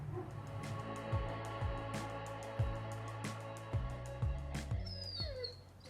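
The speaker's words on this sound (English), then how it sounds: "That is our dog." A dog whimpers and whines repeatedly in short, falling cries, fairly close, with a steady low hum behind and a few sharp clicks.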